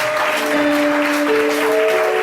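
A church congregation claps and cheers together in a dense, loud, continuous burst of applause while acclaiming the Lord, with a sustained organ-like tone running underneath.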